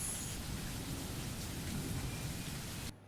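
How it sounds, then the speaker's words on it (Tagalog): Steady rain pours outdoors on a summer day in Sharjah, UAE, a dense, even wash of drops hitting surfaces up close. It runs for about three seconds with no voices and drops away suddenly at the end. "It's summer, but it's raining."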